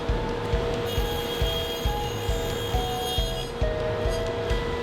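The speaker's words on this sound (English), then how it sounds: "we're at the table saw and we're using an Infinity 8-inch Dado blade set up to produce our rough tenons." Table saw fitted with an Infinity 8-inch dado blade set, cutting rough tenons on a door rail: a constant loud motor whine with a repeating low thump as the workpiece passes over the blade, no talking.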